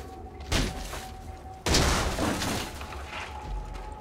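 Two heavy booming explosion blasts from the video game Mad Max, the second louder and rumbling on for a couple of seconds, with no talking.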